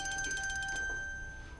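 A telephone rings in a home, a fairly quiet repeating electronic ringtone pulsing in short bursts for under a second before it stops, leaving faint room sound behind.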